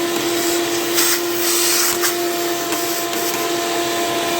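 A serviced vacuum cleaner running steadily while sucking up sawdust in a workshop: a loud, close, continuous roaring whoosh with a fixed whine and slight surges as debris is drawn in.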